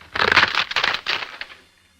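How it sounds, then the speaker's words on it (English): Wooden fruit boxes broken apart as an old-time radio sound effect: a run of dense cracking, splintering crunches in several bursts over about a second and a half, loud and close, then trailing off. "It was made up originally of some fruit boxes being broken,"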